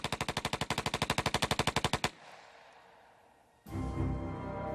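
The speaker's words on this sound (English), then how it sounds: "Vern Miller was reportedly so good with a machine gun, any machine gun, that he could write his name in bullets." Machine gun fires a rapid burst of about twenty loud, evenly spaced shots over two seconds, then breaks off into a low rumbling tail before a sudden noisy crash closes the sequence.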